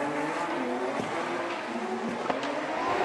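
Drift cars in a Formula Drift Japan tandem run scream past at high revs, with engines rising and falling and faint tire squeal, loud and continuous.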